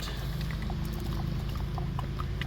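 Transmission fluid pours steadily into the fill opening of a Ford SUV, a continuous close gurgling trickle with faint bubbling ticks over a low rumble.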